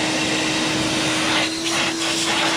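Shop vacuum steadily sucking leftover blasting sand out of a sandblasted lower engine part, a loud continuous whine with a steady hum and brief surges as the nozzle moves, no talking.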